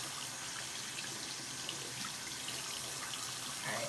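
A kitchen or bathroom tap runs continuously while the water warms up, a steady close hiss and splash that stays even throughout, with no talking.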